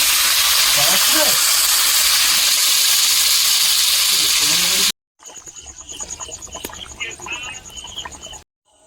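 Water poured into a hot cooking pot, a loud steady hiss and sizzle for several seconds, then a break followed by a quieter bubbling, spitting simmer.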